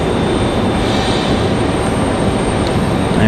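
A Boeing 777-200 airliner passes at Raleigh Durham International Airport, its engines giving a loud, steady broadband roar that holds evenly throughout with no voices over it.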